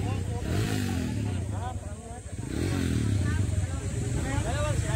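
Two-stroke motorcycle engines rev loudly and continuously at the start of an all-two-stroke endurocross race, with crowd chatter and voices mixed underneath throughout.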